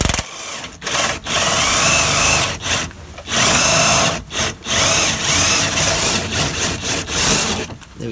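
Power tool working a bolt free from the lower arm of a Nissan Micra K12, loud bursts of whirring with short pauses between them, close up and alone with no talk.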